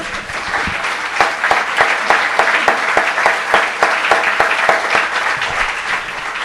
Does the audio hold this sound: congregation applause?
yes